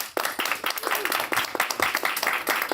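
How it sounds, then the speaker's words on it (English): An audience at a comedy lottery show claps hard for a contestant, dense and close with sharp individual claps ringing through a sustained burst. "So just clap really hard for the person you want to win"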